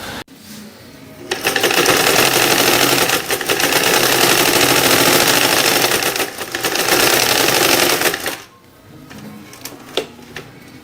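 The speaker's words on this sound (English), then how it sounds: "give 1 or 2 manual stitches to see if the machine is feeding correctly, and then proceed to press the pedal and see how it stitches" An electric sewing machine with its tension under adjustment runs in fast, loud bursts of rapid mechanical stitching while the pedal is pressed, pausing briefly, then stopping and leaving quieter clicks and handling.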